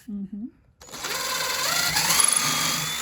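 A power drill bores pilot holes for screws into the wood of a DIY plant stand, a rising whine that starts after a brief spoken word and runs steadily for about two seconds, close by.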